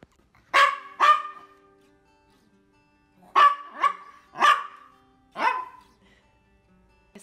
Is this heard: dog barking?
yes